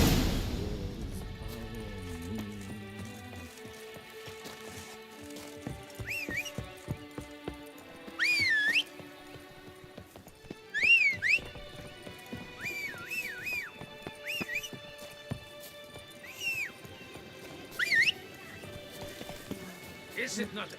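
Horse sounds in the Witcher 3 Blood and Wine expansion, set in Toussaint: faint hoof clatter under a steady musical score, with several brief high whinny-like whistles rising above it at intervals.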